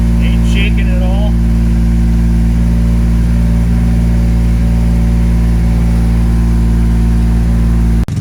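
A rebuilt 3.0L engine in a 2000 Ford Ranger idles steadily, its low, even drone holding throughout with no revving, while voices talk over it.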